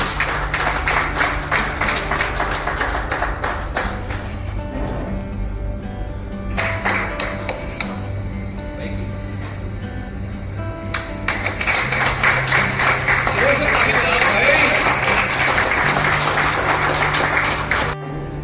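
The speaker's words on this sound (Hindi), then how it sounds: "तालियों के साथ अभिनंदन।" An audience claps steadily at a felicitation ceremony as a guest is welcomed with a shawl and bouquet, the dense applause swelling louder toward the end with no talk over it.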